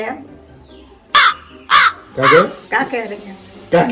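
A series of harsh, nasal crow caws, five or six close, loud bursts in quick succession with short gaps between them.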